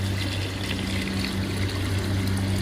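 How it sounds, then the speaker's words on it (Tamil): Water poured into a pot while cooking rasam, a continuous, close trickling pour that holds steady throughout over a low background hum. "தண்ணி ஆட் பண்ணுறோம் பாருங்கள்."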